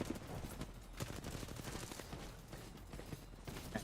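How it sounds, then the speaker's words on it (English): Apex Legends gunfire in a tournament match, dense bursts of rapid automatic shots and scattered single cracks, fairly distant and continuous across the clip. "And shots all over the place."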